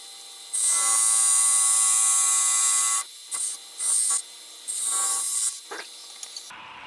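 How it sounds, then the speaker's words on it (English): A wood turning tool trims a Christmas ornament spinning on a lathe, giving a steady high scraping hiss for about two and a half seconds, then several shorter cuts with brief pauses between them. "I'm going to trim that down just a little bit."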